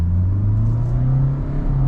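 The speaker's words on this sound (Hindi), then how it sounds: "ओके नॉइस थोड़ी आएगी इंजन से, क्योंकि डीजल इंजन है, आवाज़ करेगा" A Kia Syros 1.5 diesel automatic accelerates on the road, its engine a loud, steady low drone and rumble heard from inside the cabin, rising gently in pitch with no talk over it.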